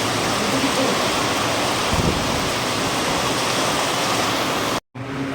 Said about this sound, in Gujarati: વરસાદ આવ્યો છે જોરદાર